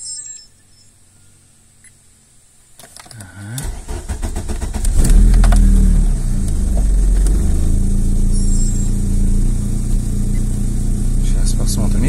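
Volkswagen Passat B3 engine, which stalls and idles unevenly from a coolant sensor fault, cranks briefly after a quiet moment, catches and settles into a loud, steady close-up idle.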